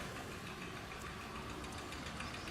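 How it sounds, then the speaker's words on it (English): A Swiwin model jet turbine keeps running on its own past 25,000 RPM after the starter clutch separates, making a steady, even mechanical roar at moderate level with no voices. "The turbine keep running by itself."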